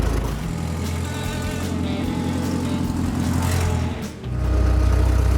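Vintage Indy race car engine running steadily at close range, a loud continuous droning tone with a brief dip near the end before it comes back up, with no talking over it.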